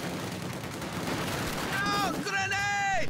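A machine gun in Company of Heroes 2 rattles in a dense, continuous stream of shots, loud and close, joined near the end by shrill whining sounds, with battle noise throughout.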